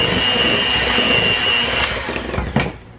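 An electric mixer beating cake batter, a close, loud, steady motor whine with a high pitched hum that winds down at the end, along with a few clanks against the bowl.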